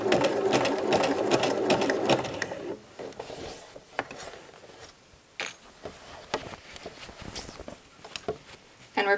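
A sewing machine stitches around the hem of a casual skirt, running steadily and loudly for about two seconds, then stopping for sparse clicks and handling noises as the fabric is shifted, with a brief restart at the end.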